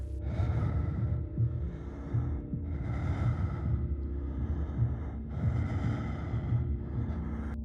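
Slow, heavy breathing presented as coming from a tree in a dark forest horror tale, with drawn-out rhythmic inhales and exhales that swell and fade in repeating cycles, close and steady throughout.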